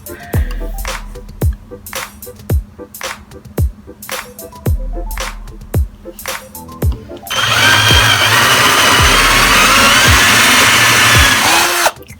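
Short rhythmic clicks and taps come first, then a power drill spins up loudly and runs continuously for about five seconds while drilling a hole for a Dollar Tree candle sconce build.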